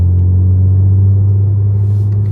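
A BMW G80 M3 with a titanium equal-length X-pipe catback and catless downpipes, valves closed, drives along with a steady, loud, deep exhaust drone heard from close by, with no talking.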